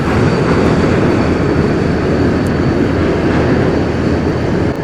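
A loud, steady rumble and roar of a short train passing close by holds throughout without pause.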